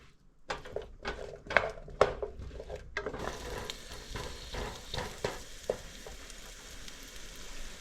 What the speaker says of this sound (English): Just saute for a few minutes.